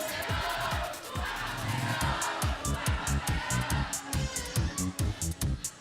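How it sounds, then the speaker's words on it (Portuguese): School audience at a student quiz final cheering and chanting in rhythmic shouted bursts, a loud crowd in a hall with pulsing claps and voices. "Torcida animada, sexta-feira de manhã."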